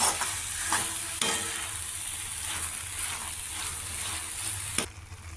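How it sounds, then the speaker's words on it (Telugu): Masala and broad bean pieces fry in a pan with a steady, bright sizzle, punctuated by a few spatula stirs and scrapes, close and continuous. "దీన్ని ఉంచుకుంటే మసాలా అంతా కూడా వేగుతుంది, చిక్కుడుకాయ ముక్కలకి అంతా పట్టి మనకి కూర రెడీ అవుతుంది."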